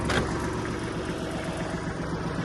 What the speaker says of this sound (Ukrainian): гріється свіча на калу і заводимо